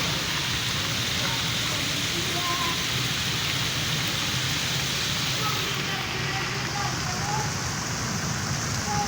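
Heavy monsoon-style rain pours down in a steady, loud, unbroken hiss that fills the scene, with no pauses across its whole length.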